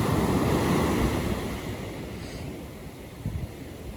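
Atlantic Ocean waves wash onto a southern New Jersey beach at sunrise, a loud steady roar of surf with wind buffeting the microphone, easing slightly partway through, with no one talking.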